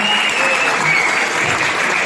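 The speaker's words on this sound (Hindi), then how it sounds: "प्लीज और एक बार जोरदार तालियां।" Loud, sustained applause from an audience at a wedding anniversary event after a live sand art performance, dense steady clapping filling the room throughout with faint voices mixed in.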